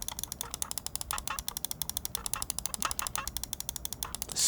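Side buttons on a Logitech G703 Hero gaming mouse click rapidly in a steady, even train of crisp, faint ticks heard close up without talk.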